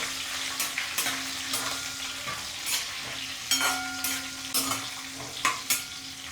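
Broken dried chillies frying in a pan for fenugreek leaf chutney, a steady close sizzle broken by repeated short scraping stirs.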